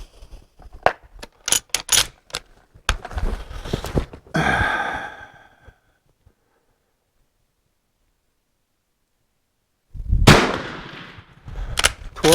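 An Italian Vetterli 1870/87 rifle fired with black powder loads during load testing, with a quick series of sharp cracks and clicks, a breathy pause, long silence, then one loud report with a brief decaying tail.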